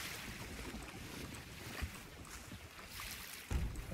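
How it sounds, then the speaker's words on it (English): Water rushing and sloshing into a ship's hull through several holes in a naval sailing video game, a steady wash of wind and surf with two louder splashes near the end. "That's the bad water noises."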